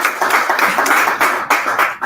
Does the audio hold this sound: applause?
yes